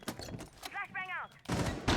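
Flashbang grenade in the Rainbow Six video game, a sharp burst followed by a bright ringing whine that sweeps down, then further loud gunfire-like bangs, with game chatter around it.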